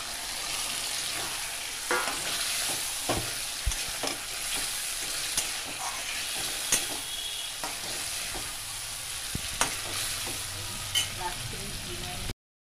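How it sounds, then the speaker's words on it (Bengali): Sliced onion and garlic paste fry in oil, giving a constant sizzle with frequent scraping and tapping of a spatula stirring in the pan. "ওই তেলের মধ্যে একটু পেঁয়াজ দিয়েছি, আর এটা রসুন বাটা দিলাম"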